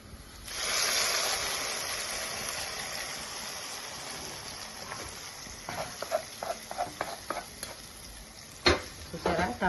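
Hot tempering is poured into tomato dal and bursts into a loud, close sizzle that slowly fades. It is followed by a series of spoon clinks and stirring knocks against the pot.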